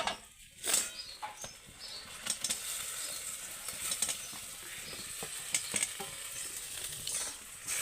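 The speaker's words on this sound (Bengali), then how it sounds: "এর মধ্যে আমি সবজিগুলোকে মিশিয়ে দেবো।" Vegetables are stirred into a pan of sizzling poppy seed and peanut paste for a raw banana dish, with a steady close fry hiss broken by repeated scraping, clattering strokes of the spoon.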